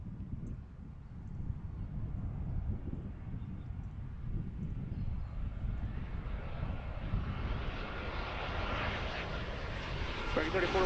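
An airliner arriving to land at Philadelphia International Airport near Fort Mifflin, its broad engine roar building steadily from fairly distant to louder and closer, with a rising hiss toward the end under faint background voices.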